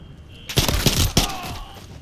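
Gunfire in the Modern Warfare III campaign: a quick volley of loud, sharp shots, one cluster then another burst with a trailing echo and a faint whine, no talk.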